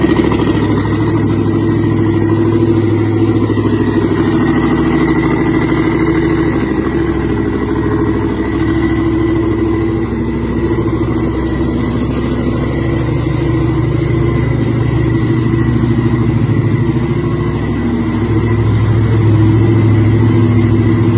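A twin-turbo all-wheel-drive Dodge Charger Hellcat making about 1,500 horsepower, its engine a loud, sustained droning roar with steady tonal whine that holds throughout, close and unbroken, with no voices.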